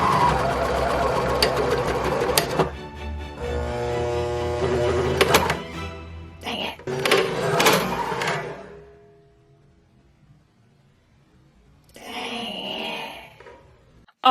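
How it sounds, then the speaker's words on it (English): A serger sewing machine stitches through six layers of fabric, a close, busy motor whirr with rapid stitching that strains and cuts out, then a softer whirr returns briefly near the end. "let's do the ultimate test, or the ultimate test for a serger, and let's see if it can go through these 6 layers"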